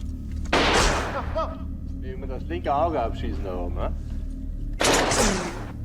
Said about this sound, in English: The two officers take turns shooting as close as they can without hitting him.